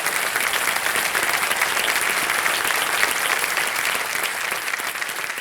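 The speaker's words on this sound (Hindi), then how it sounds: "इतने लोग ताली बजा रहे हैं" Studio audience on a TV quiz show applauding steadily, a dense wash of clapping that stays loud and even throughout with no talk over it.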